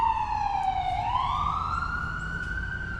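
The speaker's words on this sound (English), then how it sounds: "This ambulance going by." An ambulance siren wails past on a busy road, its pitch dipping and then rising again in a long sweep as it goes by, loud over the traffic rumble.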